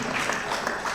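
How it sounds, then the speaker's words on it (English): A conference audience applauds Kwame Nkrumah during a session on Pan-African culture, arts and media, with dense, steady clapping filling the room at close range for a brief moment. "Can we please applaud him in absentia?"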